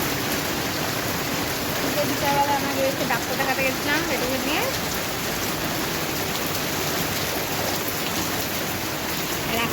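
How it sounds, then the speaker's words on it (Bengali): Heavy rain pours down steadily during a fierce storm in a continuous hiss, with a voice speaking briefly over it partway through. "তার মধ্যে বৃষ্টি পড়ছে ভীষণ ঝড়ে"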